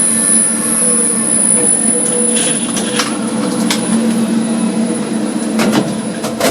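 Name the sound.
lift motors running in a lift motor room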